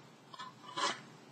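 A Warhammer 40k model building being trimmed by hand, heard as two brief, close scraping rasps, the second louder and longer, in an otherwise quiet room.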